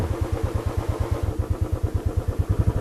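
A motorcycle engine thuds in a steady, rapid pulsing rhythm close by, a regular low chug like idling or slow riding, with no talk over it.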